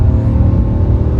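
A 2020 Nissan Titan PRO-4X XD pickup's 400-horsepower engine rumbles steadily at idle, a deep, close, continuous throb with no speech over it.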